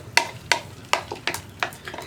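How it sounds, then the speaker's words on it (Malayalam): Rhythmic scraping strokes of a spatula stirring dry lentils roasting in a hot pan, about five sharp sweeps over a faint sizzle. "ഒന്ന് പരിപ്പിൻ്റെ കളറ് മാറി വരുന്നത് വരെ വറുത്തെടുക്കുക."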